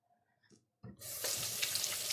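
Hands are rinsed under a running kitchen tap to wash off cheese: after a brief near-silent pause, a steady, close splash of running water starts and continues without a break.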